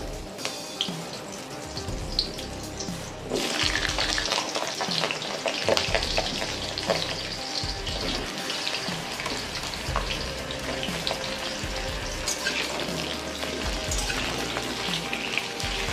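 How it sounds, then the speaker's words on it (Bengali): Potatoes frying in hot oil in a pan give a constant close sizzle, mixed with occasional stirring scrapes and some watery, tap-like hiss, continuous and unbroken with no voices. "আলুগুলো আমি একটু ভাজা ভাজা করে নেব।"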